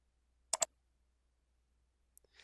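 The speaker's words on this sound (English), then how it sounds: "We can also disable this shareable link by clicking this turn off button." A computer mouse clicked on a turn-off button: two quick, sharp clicks close together, followed after a pause by a few faint ticks in an otherwise silent setting.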